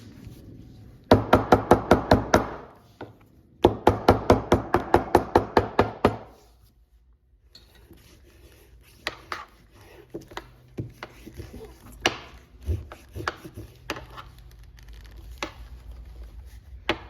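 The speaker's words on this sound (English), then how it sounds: "I'm going to tap along here and get these somewhat held together" Two layers of leather belt are tapped together with a tool in fast, sharp bursts of close, loud knocks, two clear runs, then scattered lighter taps follow.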